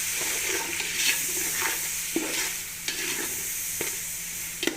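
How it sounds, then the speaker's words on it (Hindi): Chicken karela being stirred after large tomatoes and green chilies are added: soft scraping and stirring strokes over a steady, close sizzle, with no voices. "इहनूं असीं अच्छी तरह मिक्स करांगे"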